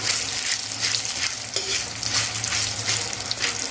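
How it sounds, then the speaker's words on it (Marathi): Whole cloves, cardamom, black cardamom, star anise, Sichuan-pepper-like tirphal and nagkesar frying in hot oil give a steady, close crackling sizzle with light stirring throughout, no voices. "लवंग तिरफळ बडी इलायची चक्रीफूल नाकेशर हे आपण जिन्नस सगळे तेलावर परतून घेणार आहोत"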